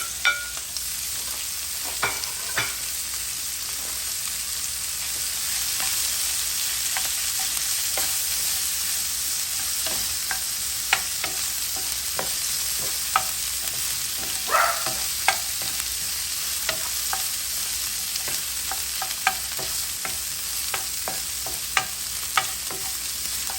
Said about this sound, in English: we are going to saute it a little bit